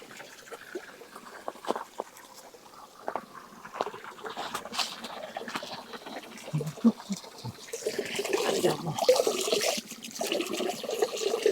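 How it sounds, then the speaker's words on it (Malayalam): Cold water pours steadily from an overflowing borewell in a Wayanad forest while someone splashes it onto their face, a continuous close trickle and gush with louder splashing toward the end. "നമുക്ക് ഏതായാലും ആ വെള്ളത്തിലൊന്ന് മുഖമൊക്കെ ഒന്ന് കഴുകി നോക്കാം."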